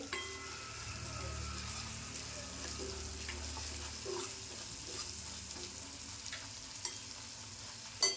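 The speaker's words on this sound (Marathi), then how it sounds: "आता हे मसाले व्यवस्थित परतून घ्यायचे." A soft, steady sizzle of spice masala sautéing in a pan for Maharashtrian shev bhaji, with occasional light stirring scrapes, close but quiet throughout.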